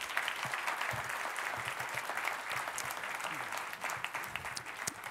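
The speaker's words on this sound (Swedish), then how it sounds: "Vi ger dem en applåd." Audience applause at a Swedish national conference, steady, dense clapping from a sizable crowd in a hall, sustained evenly throughout with a faint murmur of voices underneath.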